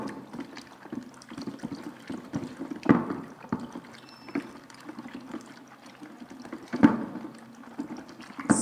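An antiseptic disinfectant mixture being stirred by hand, soft liquid swishing and sloshing with a few louder splashes and clinks against the container, close and fairly quiet, with no talking.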